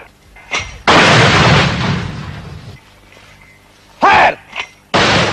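Gunfire or mortar fire going off on a shouted command, loud and close, with a big booming blast that decays slowly, followed by several sharper, shorter bursts.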